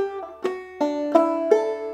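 Last measure of Logan County Blues on a clawhammer banjo: bright, twangy plucked notes in a short phrase of four or five attacks with a ringing drone underneath, played up close with no talking.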